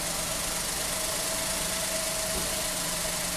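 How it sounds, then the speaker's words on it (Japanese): Steady engine of a Suzuki Spacia Custom running after a remote start through a Grgo car security system, an even mid-level hum and drone holding without change, with no speech. "ゴルゴのリモコン操作で エンジンが始動します。"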